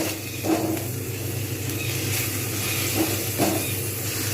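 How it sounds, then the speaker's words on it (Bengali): Tomatoes frying in a pan for a capsicum paneer curry give a continuous soft sizzle and hiss, close and steady, with a few faint scraping stirs now and then and no talking. "এবার আমি এর মধ্যে দিয়ে দেবো টমেটোগুলো টমেটোগুলো যাতে মেল্ট হয়ে যায় সেই জন্য সুন্দর করে টমেটোগুলোকে ভালো করে ভাজবো"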